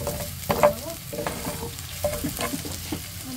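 Ginger sizzles in hot cooking oil in a pan for Bicol Express, a steady fry hiss broken by scraping stir strokes, close by with no talk.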